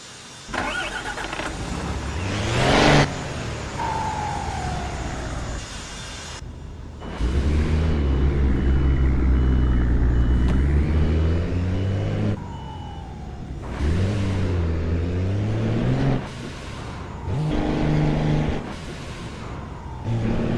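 A heavy truck engine in Euro Truck Simulator 2 cranks, surges and settles into a loud, low rumble in repeated waves, with a high-pitched electronic tone sounding at intervals over the drone.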